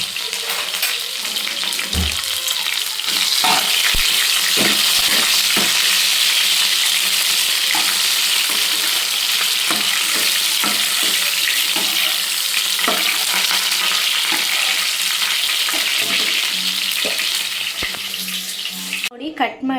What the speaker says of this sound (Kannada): ಅದೇ ಇಷ್ಟು ಮಾತ್ರ ಎಣ್ಣೆಯಲ್ಲಿ ಮಾತ್ರ ಬಾರಿಸ್ಕೊತೀನಿ.